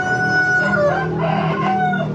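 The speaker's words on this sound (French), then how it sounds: "Il y a du coq." A rooster crows loudly and close by in Ubud, Indonesia, a single drawn-out call with rising and falling pitch.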